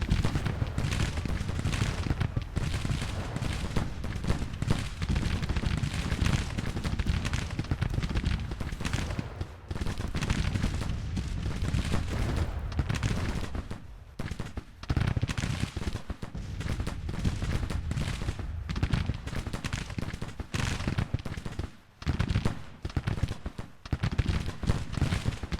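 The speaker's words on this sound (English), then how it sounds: "Double time it, boys. Double time it. Get those rifles working." Rifle volleys and scattered musket fire crackle continuously across a Civil War battlefield video game scene, dense overlapping shots with occasional louder bursts, sustained for the whole stretch.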